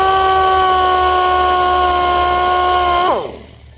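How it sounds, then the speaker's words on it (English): A small handheld sander whines at a steady high pitch while sanding a dirt nib off a painted car panel, then winds down quickly and stops. "you take this little sander and you just go"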